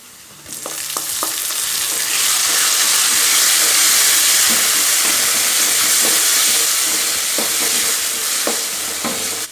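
Four cut tomatoes tipped into hot oil for Tamil tomato rice, a sudden loud sustained hissing sizzle that swells and holds steady, with a few spoon clinks against the pan.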